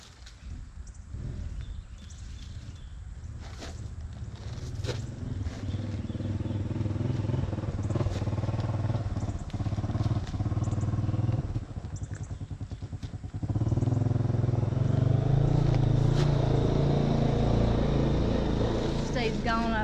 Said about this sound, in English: gone up on the four-wheeler to the barn